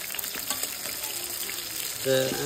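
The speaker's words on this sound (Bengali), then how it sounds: "ইলিশ মাছের ভাজা করছি কাতলা মাছের একটা মাথা ভাজা করছি" Hilsa pieces and a katla fish head fry in a pan with a constant, crackling sizzle heard up close, swelling a little near the end as a brief tonal sound rises over it.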